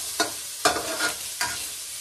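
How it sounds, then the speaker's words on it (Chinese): Pumpkin being stir-fried in a wok with a little fatty pork, three sharp tossing or spatula strikes over a constant close hiss of sizzling oil, no voices. "又炒南瓜"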